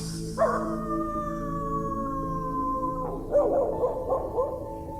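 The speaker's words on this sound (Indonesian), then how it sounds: "ada suara lolongan anjing dan suaranya tidak jauh dari kami" A dog howls close by, a long sustained wavering tone that slowly falls in pitch, followed near the end by a few shorter broken yips and howls, all fairly quiet.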